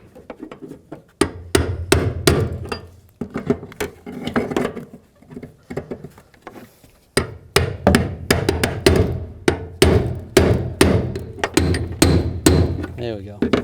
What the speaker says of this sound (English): take the brass punch and we'll just tighten it up.